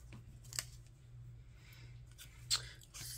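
Scissors cutting postage stamps, two quick crisp snips about two seconds apart, close and fairly quiet over a faint low hum.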